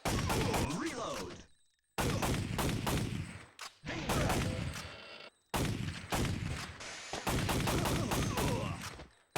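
Rapid gunfire from the PlayStation game Time Crisis, dense bursts of loud shots rattling in quick succession, broken by a few short silences, with voices talking over the shooting.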